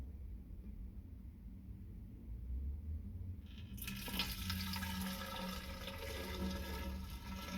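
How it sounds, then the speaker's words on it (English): Water is poured quickly into a container of Esso Synergy Supreme E5 petrol, a steady low rush that swells into a louder, brighter gushing partway through and carries on to the end, close by and alone. "Sometimes I have to pour it quite fast"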